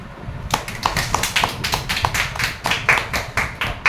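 A small group claps in a steady, quick patter for a few seconds, close by and moderately loud, with no talking over it.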